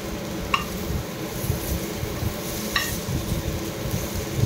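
Odia-style poi masala snack fries over a medium gas flame, a steady dense sizzle that runs throughout, with two light clicks of a utensil against the pan.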